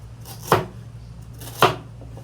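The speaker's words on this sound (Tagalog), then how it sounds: "Gawin natin siya, hiwain natin siya ng cubes." A knife cuts meat into small cubes for kaldereta, landing two crisp, close chops about a second apart on a cutting board.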